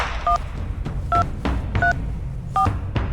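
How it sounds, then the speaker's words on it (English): A telephone number being dialed: a sequence of five short touch-tone beeps at an even pace, each a crisp dual tone, over a faint low background hum with clicks between presses. "Who are you dialing?"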